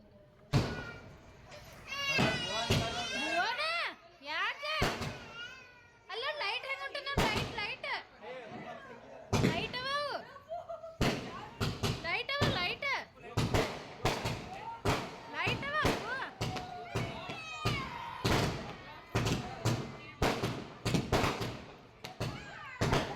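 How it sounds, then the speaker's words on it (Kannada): Loud New Year firecrackers burst one after another in sharp, irregular bangs, with excited voices talking and shouting between the blasts. "ಈಗ ನಮ್ಮ ಹುಡುಗರು ಪಟಾಕಿ ಹಂಚಾಕತ್ತಿದ್ರು, ಜೋರು ಸೌಂಡ್ ಉಂಟದಂತೇಳಿ ಇಬ್ಬರು ಆಡಕತ್ತಿದ್ರು."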